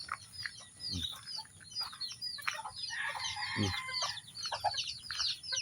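Chicks in a backyard poultry coop keep up a constant high peeping and cheeping, close and busy. Rooster and hen calls and a soft rumble of movement rise underneath.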